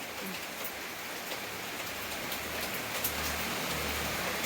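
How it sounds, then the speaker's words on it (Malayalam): Heavy rain pours down steadily, a dense continuous hiss with scattered drops pattering nearby, and no voices over it. "എന്തൊരു മഴ"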